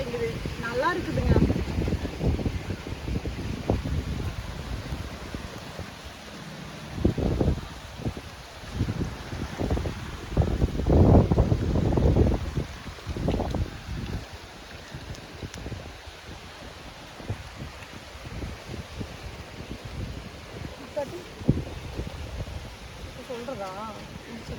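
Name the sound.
strong wind blowing palm trees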